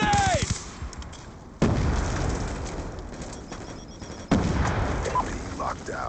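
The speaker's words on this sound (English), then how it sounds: "Hostile grenade!" Black Ops 2 match: two loud, sudden blasts a few seconds apart, each with a long rumbling decay, with scattered gunfire and game voice announcements around them.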